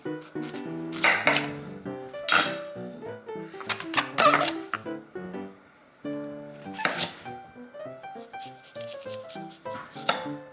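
Knife slicing wilted spinach on a cutting board for a Korean vegan side dish, heard as a handful of soft, close cuts at irregular intervals over steady tonal background music.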